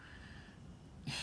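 Faint, steady snoring breaths from a sleeping dog close by, ending in a slightly louder snort.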